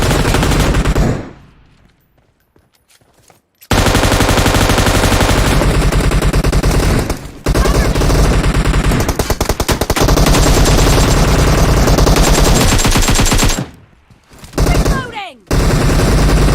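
Rapid machine gun bursts in the PUBG Mobile video game, loud and dense, broken by two short silent gaps, with game announcer voice callouts over the firing.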